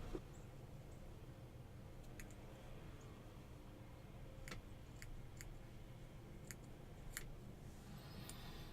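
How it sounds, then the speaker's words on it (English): Small scissors snip the cotton wick of an e-cigarette coil, giving several sharp, quiet clicks spread over a low room hum. "What you gotta do is trim your cotton."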